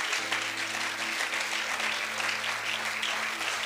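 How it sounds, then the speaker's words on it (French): A church congregation at a French-language service breaks into steady, sustained applause, a dense wash of clapping that continues throughout over soft held musical tones. "Est-ce que nous pouvons acclamer Jésus pour notre pasteur?"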